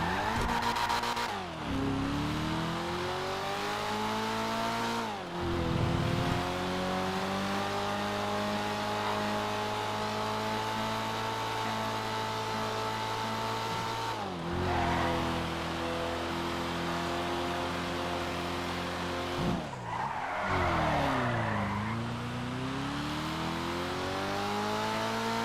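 Eros X32 two-door coupe in a video game test drive, its engine droning steadily with rising and falling pitch through gear changes, several sharp drops and re-accelerations, and tire squeals, loud and continuous with no talking.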